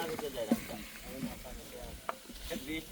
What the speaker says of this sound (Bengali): পেঁয়াজ ভুনা চলতেছে।